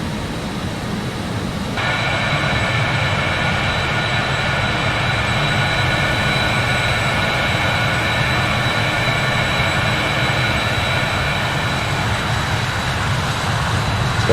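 Steady, loud jet engine roar from a JustFlight BAE 146 in a flight simulator, swelling after about two seconds into a sustained whine with high tonal hum layered over broadband rumble, continuous without speech.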